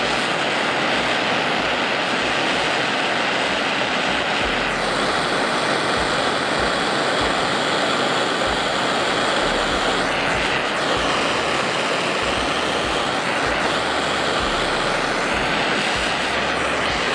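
Steady roaring torch flame held on a broken zinc pot metal die-cast car part, a continuous loud rushing hiss with no breaks and no talking.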